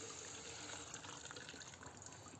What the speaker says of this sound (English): So we'll pour that into there.